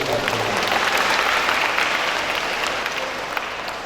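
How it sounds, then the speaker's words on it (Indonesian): A crowd claps steadily for several seconds at a school in Kediri, a dense patter of applause that stays loud throughout before easing slightly at the end. "Tepuk tangan untuk ibu."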